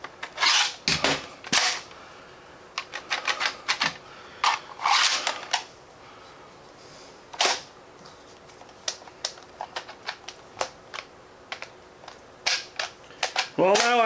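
A Heatwave H.S. Ice Phoenix pistol gives a series of sharp, close clicks and snaps during attempted slam firing, irregular and fairly loud with gaps between them, alongside handling noises.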